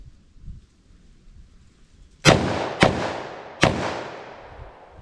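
.357 Magnum rounds (Barnes TAC-XPD) fired from a short-barrel handgun into ballistic gel: three loud, sharp gunshots after a quiet lead-in, each with a long ringing decay, the last two close together.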